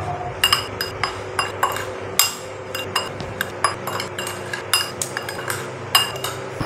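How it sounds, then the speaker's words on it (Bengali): Spoon mixing green chili pickle with salt and vinegar in a bowl, a close, steady run of clinking and scraping taps against the dish with no talk. "ভালো করে মিশিয়ে নেব।"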